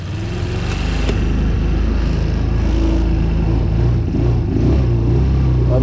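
A running quad bike engine, with a fault and a gearbox still needing adjustment, drones loudly and steadily at close range as forward gear is engaged, with a brief clunk early on and a slight dip near the end.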